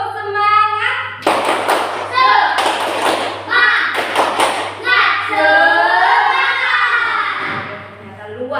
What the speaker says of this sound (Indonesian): anak-anak semuanya ya, dengan tepuk semangat